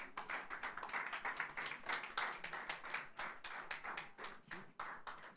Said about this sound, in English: Let's make that applaud louder.